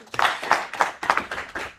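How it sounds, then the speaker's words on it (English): Audience clapping at an international business and career symposium, a few loud, uneven claps in a short burst with no talk over it. "Please clap for us."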